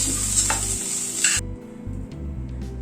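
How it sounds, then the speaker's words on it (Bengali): Pointed gourd (potol) frying in oil in a kadai, with a steady sizzle broken by stirring and the clink of a utensil against the pan. "এই পটলগুলো লাল করে ভেজে তুলে নিচ্ছি"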